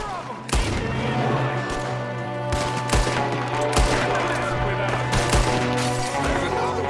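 Gunfire in the Red Dead Redemption 2 video game: repeated sharp shots ring out in loose bursts over a steady low hum and game ambience, loud and close, with a voice speaking faintly in the background.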